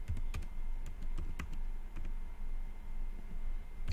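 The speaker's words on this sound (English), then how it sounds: "let me type here" Steady typing on a computer keyboard while entering data into an Excel spreadsheet, with a continuous run of close, crisp key clicks and a few heavier strokes, heard alone with no talk.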